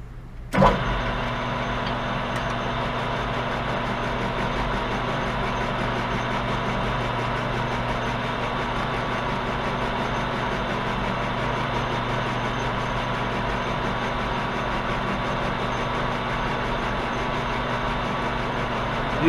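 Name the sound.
metal lathe facing a bandsaw stand part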